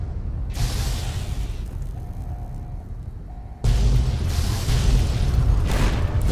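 Explosions in the video game Fallout: New Vegas: a steady rumbling blast texture that suddenly swells into a louder, heavier boom partway through, with no talk over it.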